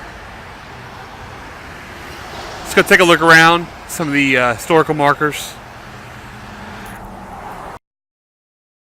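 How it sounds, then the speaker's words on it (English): Road traffic passing near the Fort Bend County Courthouse in Texas, a steady moderate roar of vehicles with someone talking over it briefly in the middle. "Sorry, traffic's getting a little loud here."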